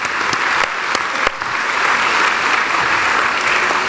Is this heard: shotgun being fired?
no